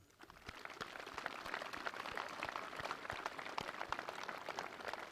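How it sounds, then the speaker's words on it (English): Sustained crowd applause at an outdoor Memorial Day service at the North Dakota Veterans Cemetery, honoring motorcycle honor run riders; dense steady clapping throughout, moderately distant, with no talking. "with a round of applause."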